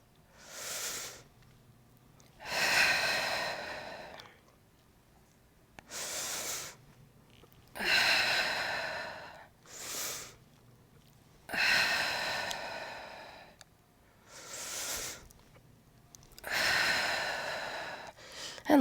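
Slow audible breaths during a Pilates rocking exercise with a ring, several long breathy inhales and exhales at a steady rhythm, separated by quiet gaps, close and fairly soft.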